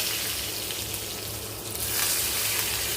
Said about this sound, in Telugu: ఒక మూడు లేక నాలుగు వెల్లుల్లిపాయ రెబ్బలు చిన్న చిన్న పీసెస్ కట్ చేసినవి కొద్దిగా ఇంగవ ఇవన్నీ కూడా బాగా వేగిపోయాయి